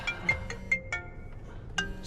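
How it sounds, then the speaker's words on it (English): A mobile phone rings with a short, bright ringtone: a quick series of close electronic chimes, a pause, then one more chime, with no talking over it. "Sorry, my phone rang."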